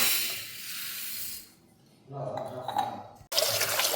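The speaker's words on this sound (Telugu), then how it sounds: "బియ్యం అంతా బాగా వాష్ చేసుకుందాం." Sona Masoori half-boiled rice is washed in water: loud running and pouring water, then a quieter stretch of swishing and sloshing grains, followed by another burst of pouring water.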